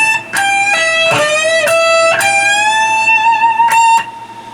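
An electric guitar plays a short rock lick alone, with several picked notes, rising string bends and a wavering vibrato on a sustained high note.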